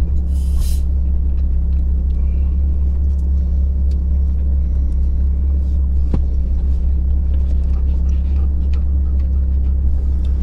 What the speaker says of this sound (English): 4 low idle. I can literally get out and walk next to the Jeep.